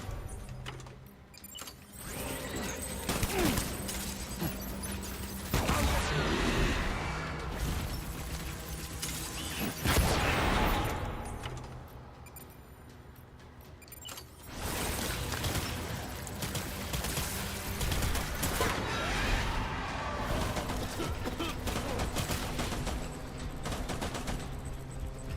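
Bursts of gunfire from the Death Stranding video game, repeated volleys and clattering shots with loud swells and quieter gaps in between, set against a busy game backdrop.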